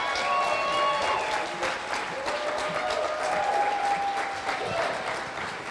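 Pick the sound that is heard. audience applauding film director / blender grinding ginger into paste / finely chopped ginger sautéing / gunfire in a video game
audience applauding film director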